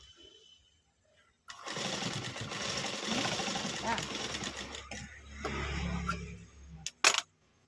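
A tailoring sewing machine stitches a hem strip in a close mechanical whirring run of a few seconds, pausing briefly before a second burst, with a sharp clack near the end.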